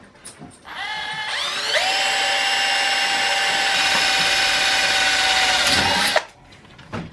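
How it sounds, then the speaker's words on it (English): A power drill with a 1/8 inch bit spins up with a high whine, runs steadily for several seconds, then winds down while making a small parts tray; no talking. "We are using a 1/8 inch drill bit."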